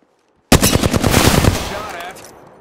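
Rapid automatic gunfire in a video game, a loud sudden burst of closely spaced shots starting half a second in and lasting about a second before decaying into a fading tail.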